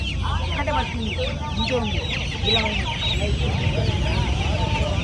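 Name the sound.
Giriraja chickens clucking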